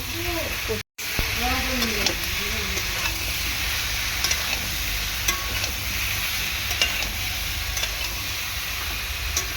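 Fish head and young pumpkin curry frying in a pan with steady, close sizzling and a scraping spoon stirring throughout, a short break near the start, and brief faint voice-like tones early on.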